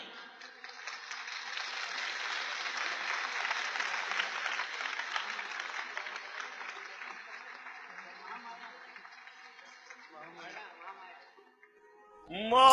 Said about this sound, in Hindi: आप लोग सब तालियां बजाइए